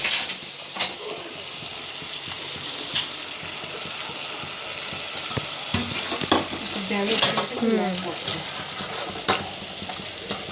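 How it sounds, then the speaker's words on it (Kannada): Jaggery mixture cooks over a high gas flame for a North Karnataka Ellu Amavasya festival meal. It hisses and sizzles steadily, with repeated scraping stirs in the pot and no talk. "ಅದು ಬೆಲ್ಲ ಮೆಲ್ಟ್ ಆಗಬೇಕಲ್ಲ, ಅದು ಚಲೋ ಕುದಿಸ್ಕೋಬೇಕು."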